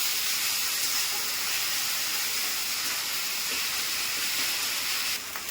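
Potatoes and mixed vegetables frying in oil, giving a steady, even sizzling hiss throughout, close and moderately loud with no talking.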